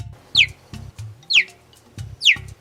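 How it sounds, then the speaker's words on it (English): A cheetah's short high chirps repeat three times at a steady pace, each a quick bright downward squeak over soft low grunting pulses. "they make this unique sound to them called chirping."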